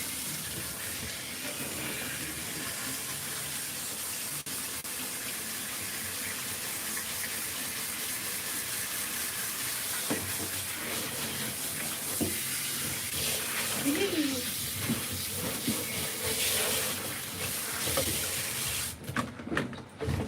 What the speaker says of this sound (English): we're just going to give her a quick rinse